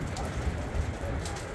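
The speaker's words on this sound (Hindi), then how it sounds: "अभी बारिश हो रही है" Steady rain falls in June at Batakundi in Pakistan's northern mountains, a dense, even patter of drops throughout the short stretch, with no speech.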